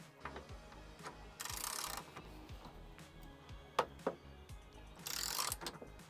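Ratcheting clicks from a wrench fitted with a 10mm spline socket working bolts on an Audi TT, with two bursts of rapid clicking and a few sharper knocks between them, close and moderately loud.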